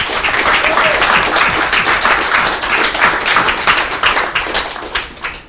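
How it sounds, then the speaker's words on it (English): A crowd claps steadily and loudly in response to good news at a gathering, with sustained applause running throughout and individual hand claps standing out near the end. "I want us all to clap for this because this is massive news."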